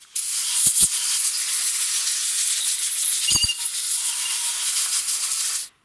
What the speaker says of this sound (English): And now I'm going to blow off all the dirt with my compressed air.